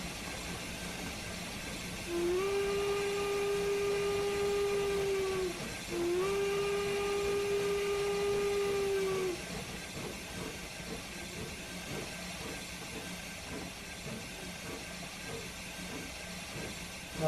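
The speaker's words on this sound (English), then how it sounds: "Now that was a ghostly whistle." Steam locomotive whistle on Sherman Hill sounding two long, steady, mournful blasts separated by a brief gap, over continuous hiss and rumble that carries on after the whistle stops.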